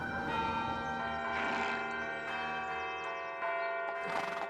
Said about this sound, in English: Major Pitcairn, what do you make of all these bells?